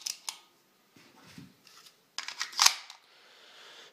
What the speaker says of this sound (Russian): Заряжаем еще один патрон в магазин.